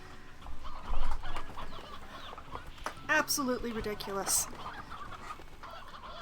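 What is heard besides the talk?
roosters in a chicken pen, from the video game Slime Rancher 2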